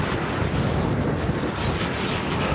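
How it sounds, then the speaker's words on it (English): Steady, loud wind buffeting the microphone during a bicycle ride along a 60 km/h road in Amstelveen, a continuous broadband roar with no pauses and no talking. "Apart from this freaking wind"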